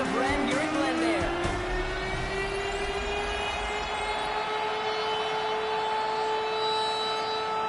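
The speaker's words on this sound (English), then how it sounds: "the Cardinals are listening for the sound of their signature big red siren, which signals an air raid" Arizona Cardinals' big red air raid siren wails through the stadium in Glendale, rising at first and then holding a long, steady, loud tone over the roar of a packed football crowd.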